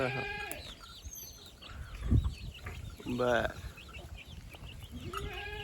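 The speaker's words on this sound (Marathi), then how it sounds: "कोंबड्यांचं चाललंय उकरून किडं खायचं काम सकाळ सकाळ" Farmyard birds and animals in a village on a morning farm, with chickens scratching the ground, scattered clucks and bleat-like calls heard faintly amid nearby people talking.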